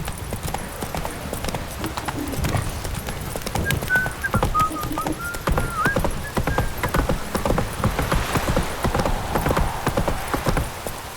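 Roach the horse trotting in The Witcher 3, with a brisk run of loud close hoof clip-clops, a brief whinny and rain in the background.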